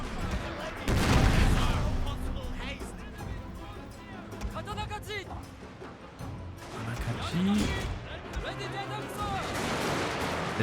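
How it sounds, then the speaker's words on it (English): Cannon and musket fire from the Shogun 2 Total War: Fall of the Samurai Battle of Toba Fushimi video game: scattered volleys, rattling gunshots and booms layered into a dense battle din, with a voice talking over it. "get a few cannon shots off into the spear levy."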